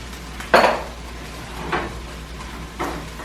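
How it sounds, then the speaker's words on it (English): Ingredients stirred into onion and garlic in a pan while making Oaxacan tlayudas, with three separate scraping, clinking stirs of utensil against pan, the first loudest, spaced about a second apart. "And just mix them in with the onion, which has some garlic in it."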